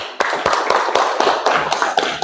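A small group claps after a close quiz game score, a run of sharp, fairly quick hand claps up close with slightly uneven timing.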